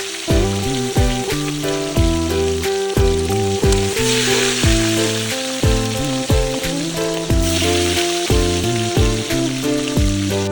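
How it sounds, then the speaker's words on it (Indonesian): Pork slices, already boiled, fry in hot oil outdoors in a garden, giving a continuous sizzle under steady rhythmic background music. "Setelah minyaknya panas, langsung kita goreng saja daging babinya ini."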